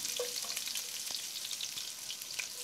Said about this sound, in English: add the chopped ginger and garlic into the pot and fry them with the whole spices